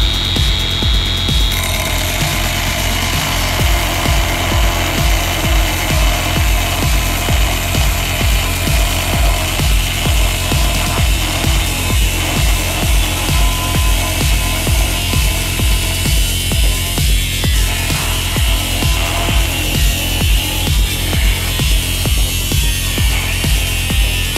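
A STARK CAG 1800 cordless angle grinder cuts through a metal pipe about 4 cm in radius, a loud, continuous, close-up grinding whine with a steady pulsing rhythm throughout and no talking.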